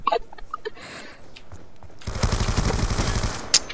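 Rapid automatic gunfire from a weapon in the shooter game Call of Duty Black Ops 2, erupting halfway through as a dense, loud burst of shots after quieter in-game sounds.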